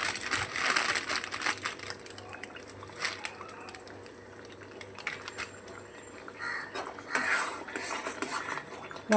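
A spoon clatters and scrapes against a pan while paneer curry with kasuri methi is stirred, irregular metallic knocks over a low background hum, close and with no talk.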